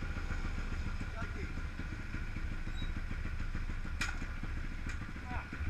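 A pocket bike engine used for child racing runs on after a gear change, a loud, steady, close buzzing drone that holds throughout with little rise or fall.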